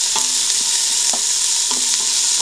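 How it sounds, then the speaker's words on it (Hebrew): Onions fry in a pan with a loud, constant sizzle while a utensil stirs them, making several distinct scraping knocks at irregular intervals. "אני מערבבת ככה משהו כמו 3 דקות"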